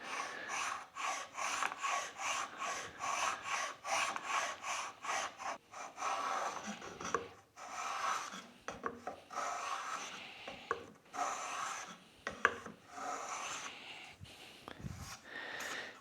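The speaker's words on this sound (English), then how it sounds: "Just a little rabbet or rebate in the edge of the piece, using our fence as a guide." A plough plane shaves a rabbet along the edge of a sapele wood board, soft, close rhythmic rasping strokes repeating steadily with light breathy handling sounds between passes.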